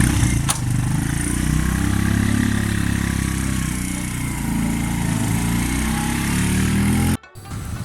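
Motorbike engines running steadily and close during a group ride, a continuous mid-pitched drone with low throbbing harmonics that cuts off abruptly near the end, then resumes.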